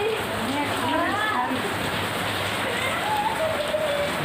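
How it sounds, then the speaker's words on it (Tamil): Heavy rain with windblown spray falling steadily in a village, a continuous close hiss of drops on surfaces, with a person talking faintly through it. "சாரலோடு சேர்ந்து நல்ல மழை பெஞ்சிக்கிட்டு இருக்கு எங்கள் ஊரில்"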